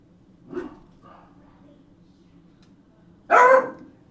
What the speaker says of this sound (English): we have a weenie dog, and if you know weenie dogs, you know they like to make sure you know they're around